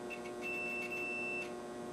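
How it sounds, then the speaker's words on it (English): A digital multimeter set to continuity gives a steady high electronic beep through most of the clip, a single sustained tone over a low background hum. "The DMM is set to continuity so that it'll beep if I have contact"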